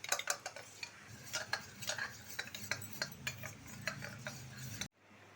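A spoon stirs cornflour into cold water in a bowl for chilli chicken, tapping and scraping in a quick, steady rhythm close up, then stopping abruptly.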